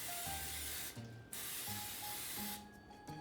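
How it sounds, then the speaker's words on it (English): Cooking spray hissing from an aerosol can onto a hot griddle before pancakes go on, a steady close spray in two long bursts with brief pauses, no talking. "Before I put them on there, I am going to spray them with some cooking spray."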